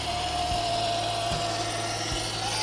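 The big brushless motor of a Chinese RC truck with FOC control runs with a steady whine and hum, broken by a few soft low thumps.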